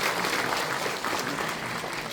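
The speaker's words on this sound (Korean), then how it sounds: "제 말에 동감하시면 큰 박수로 좀 화답해 주시기 바랍니다." A seated audience at a politician's book launch gives sustained applause, a broad, even wash of many hands clapping continuously at moderate volume with no voices over it.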